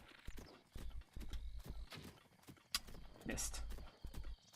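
A horse's hooves clip-clopping in a video game, uneven clusters of hoofbeats with short pauses between them, close and fairly quiet, while a voice speaks briefly over the steps.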